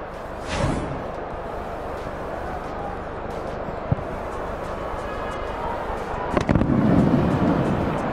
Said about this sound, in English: And the firework goes off to announce a Real Sociedad goal